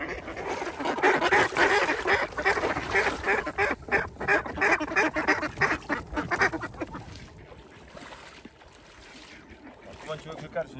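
Ducks and geese call loudly and continuously around a hunting hut on a Camargue pond. There are dense quacks and honks, some from decoy calls, and people talk over them.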